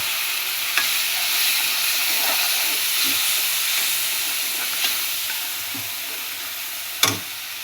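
Fish curry gravy simmering in a pan on the stove gives off a steady close-up sizzle and hiss with a few faint bubbling pops, and no one speaks.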